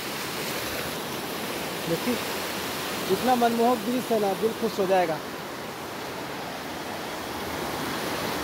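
Strong river current rushing at Rajrappa, a steady broadband wash of flowing water that continues throughout while someone speaks over it in the middle.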